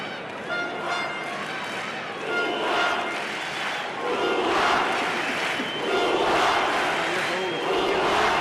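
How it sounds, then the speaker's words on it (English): Crowd at an amateur boxing bout between a Cuban and a Russian fighter, chanting "Cuba" in loud rhythmic swells that fill the arena, with a commentator's voice running over it. "Huge chance of Cuba ringing round this crowd"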